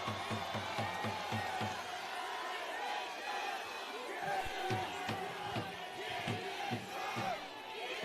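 A crowd at an outdoor People Power Party protest rally roars and shouts in unison, with rhythmic thumping claps and bursts of whooping, voices loud and massed.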